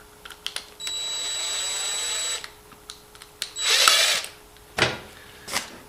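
A cordless power drill or driver backs out the screws on an extension cord plug end, with a long steady whine, a second shorter burst, then a few sharp clicks and brief bursts.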